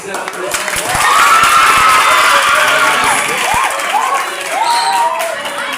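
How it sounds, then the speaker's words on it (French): A school crowd applauds and cheers for sixth-grade students at a college competition final, with steady dense clapping and high children's shouts and whoops rising over it throughout. "on va donner un gros applaudissement pour l'élève 6e"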